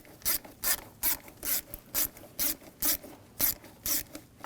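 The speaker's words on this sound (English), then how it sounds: "I use a 7mm socket, loosen up this clamp." A 7mm socket ratchet loosens a clamp on a 2006-2009 Audi S4 4.2L V8, giving a close, even series of about eleven rasping clicking strokes in a steady back-and-forth rhythm.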